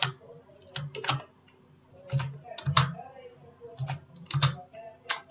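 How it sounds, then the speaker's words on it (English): Typing on a computer keyboard in bursts of clicky keystrokes, fairly close and moderately loud, with pauses between short runs of keys. "from keyboard I'm going to type the value for this variable a"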